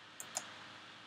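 Two faint, sharp mouse clicks land close together in a quiet room, with a small soft tick just after them, as the fill tool is selected in Adobe Photoshop.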